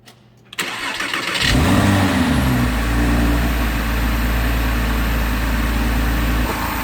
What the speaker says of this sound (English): let's go ahead and start the engine and get it warmed up